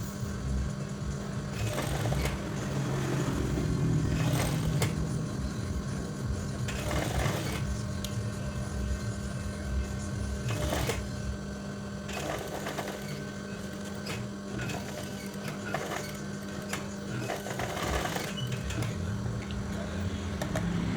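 A sewing machine stitching a shirt collar runs in a steady mechanical whir for about twenty seconds, with brief pauses and changes in speed. It is close and fairly loud, and no one talks.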